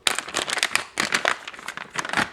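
An MRE orange drink pouch from a cold weather ration is torn and crinkled open, giving short, loud bursts of crisp plastic rustling and tearing close by.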